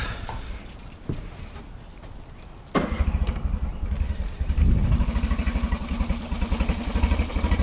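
A Mercury F9.9 ELPC outboard motor with a replaced carburetor catches after a few seconds of quiet clatter, then runs loud and close with a steady, rapid pulsing idle to the end.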